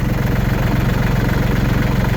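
A tractor engine idles close by on a snowy day, a loud, steady low throb with a fast even pulse and no voices.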